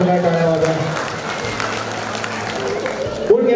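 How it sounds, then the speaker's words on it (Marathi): Audience applause at a lively Marathi event, dense crowd clapping running throughout beneath a voice and background chatter. "वाजवा जरा जोरदार टाळ्या वाजवा."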